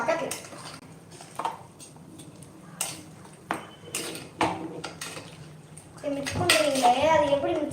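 A spoon clinks and scrapes against a pan as mutton bone curry ingredients are stirred together. Short metallic taps come first, then a busier stretch of clattering and sizzling near the end, with a voice faintly present.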